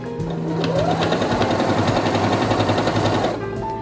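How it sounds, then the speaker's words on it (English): A Singer Quantum Stylist 9960 sewing machine runs a straight stitch through fabric in a steady, fast mechanical whir of rapid needle strokes, close and loud, starting and stopping within a few seconds with no talking. "So all I need to do is place my fabric underneath the presser foot, lower it, and begin sewing."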